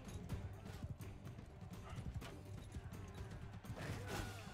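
Horse hooves clatter in a fast, rhythmic gallop in the Realm of Thrones mod battle, with clashing combat noise around them and a voice talking over the top.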